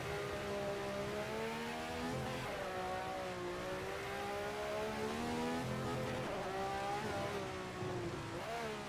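A 1967 Ferrari 312 race car screams around the wet Nordschleife, its engine note rising and falling steadily through gear changes, loud and close throughout with no talk.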